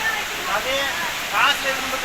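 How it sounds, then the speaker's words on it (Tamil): Agaya Gangai waterfall in the Kolli Hills rushes as a steady, loud wash of falling water nearby, with people talking over it. "அந்த அருவியோட சாரல் வந்து அழகாக முகத்தில் படுது"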